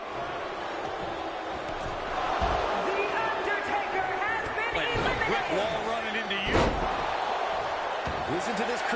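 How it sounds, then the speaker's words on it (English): A Royal Rumble arena crowd in the WWE 2K24 video game roars and chants in rhythmic bursts as if counting down, with thuds from the ring and a commentator talking over the noise. "Listen to this crowd count the next one in."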